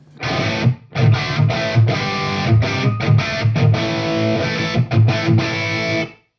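A distorted electric guitar played through impulse responses with loud room mics rings out in chords broken by short gaps and a brief pause, full and loud, with the room sound adding body.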